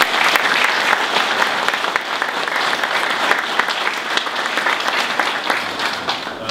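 An audience at a folk gathering applauds to greet two visiting guests, a steady dense clapping that stays loud and close for several seconds and carries a few sharper individual claps.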